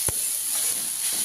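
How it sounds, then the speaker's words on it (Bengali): Leafy greens sizzling in a hot pan, a steady soft frying hiss with a brief louder crackle near the start, close by and with no talk. "শাক ভাজা হচ্ছে"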